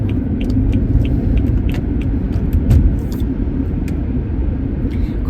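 Low, continuous road rumble from inside a car moving on a road in America, a steady droning hum with faint higher rattles and no voices.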